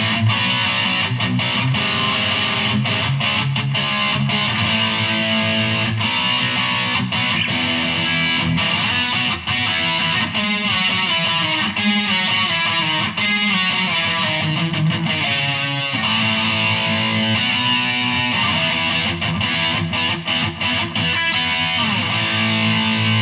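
A new Burny Les Paul Custom electric guitar played through heavy distortion, thick sustained power chords and riffs ringing loud and continuous without pause, no voices present.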